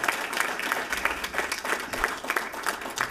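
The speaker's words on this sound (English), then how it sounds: "she definitely deserves a round of applause" Audience members at a school board of education meeting give a round of applause, a steady burst of moderate clapping in a room lasting a few seconds.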